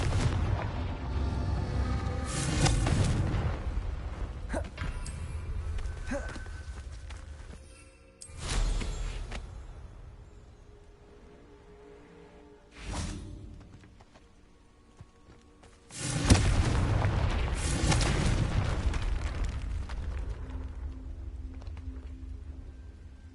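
Confringo fire spells in Hogwarts Legacy blast out as heavy booming explosions, several separate bursts with rumbling tails, the last one swelling into a long, loud roar.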